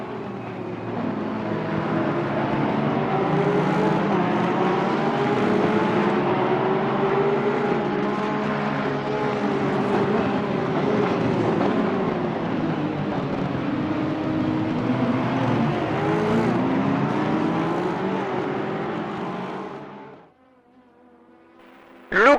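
A race car engine in a sim racing game during the final lap of the 10 Hours of Suzuka drones loud and close, its note rising and falling with gear changes for about twenty seconds before cutting off abruptly.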